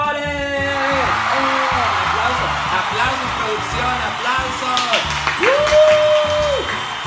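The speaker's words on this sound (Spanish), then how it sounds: "¡Aplausos!" Applause and whoops mark a celebration of a 100,000-subscriber plaque, sounding as a steady wash of clapping and cheers mixed with tonal, sliding musical effects.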